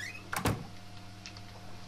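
A door swings open in Counter-Strike: Global Offensive, a brief sliding, mechanical rush lasting under half a second, close and moderately loud, followed by quiet game ambience with a steady low hum.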